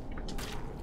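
A brief wet squishing splat of a watermelon being smashed in the game No More Room in Hell, set against dense low rumbling background noise.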